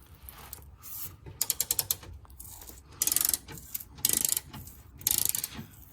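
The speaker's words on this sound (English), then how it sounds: "We're gonna loosen these two 16mm bolts." A ratchet loosening two 16mm bolts on the front mount of a Dodge Grand Caravan, rapid close clicking in several short bursts separated by pauses.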